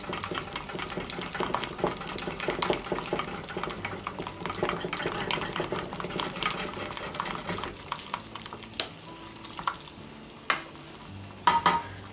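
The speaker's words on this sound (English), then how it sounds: "Then I'm going to add my flour. And what I'm trying to do here is keep mixing it." A roux being made as flour is stirred into fat in a pan, with a utensil scraping and clicking steadily over a soft sizzle, then a few sharper, louder knocks near the end.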